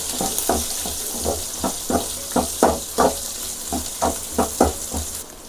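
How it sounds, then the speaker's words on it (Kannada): A large onion frying in oil for a yogurt sambar, a steady sizzle broken by repeated stirring scrapes of a spoon against the pan. "ಈರುಳ್ಳಿನೂ ಕೂಡ ಚೆನ್ನಾಗಿ ಎಣ್ಣೆನಲ್ಲೇ ಫ್ರೈ ಮಾಡಬೇಕು."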